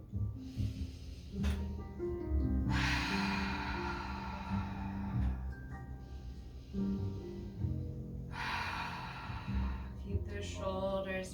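Slow, deep breaths during a morning yoga pose, several long inhales and exhales of a few seconds each, heard close and clear with no talking.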